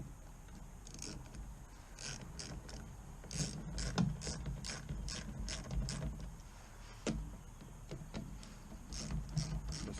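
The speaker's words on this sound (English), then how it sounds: "Just tighten these down." Small 8mm screws being tightened on a Little Wonder power edger make quiet, close ratcheting clicks that come in irregular clusters over a faint background.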